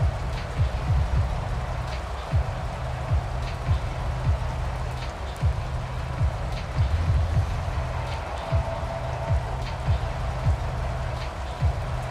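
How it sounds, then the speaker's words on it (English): Rain falls steadily during a Steelers vs. Ravens game in Madden NFL, a constant hiss of rain with a low rumbling undertone and scattered short clicks and thumps. "The rain set to continue as we are underway in the second half."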